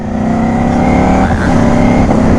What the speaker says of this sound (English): the bike will rev match for you as you not use the clutch there